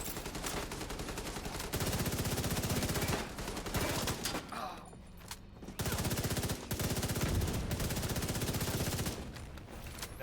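Sustained rapid gunfire in a first-person shooter game, near and loud, in long continuous bursts with brief pauses, played with a controller while going for headshots.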